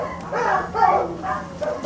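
A dog whimpers and moans in a series of drawn-out, wavering cries, fairly close, with short breaks between them.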